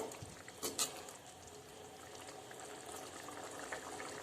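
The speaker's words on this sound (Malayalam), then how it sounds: "നല്ലോണം തിളക്കുന്നുണ്ട് കേട്ടോ." A pot of egg curry bubbles quietly at a steady simmer, soft popping and gurgling with a couple of small clicks early on.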